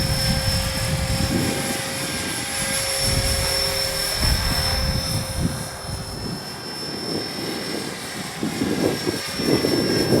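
A Blade 330S RC helicopter flies outdoors in gusty wind, its rotor whine and buzzing motor steady and fairly loud, with wind rumble rising and falling beneath, no talking.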